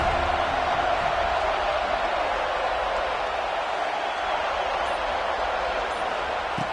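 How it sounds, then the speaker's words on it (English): A stadium crowd at a football game keeps up a steady, roaring wash of cheering noise, constant and loud throughout with no breaks. "This crowd ready to make its presence known."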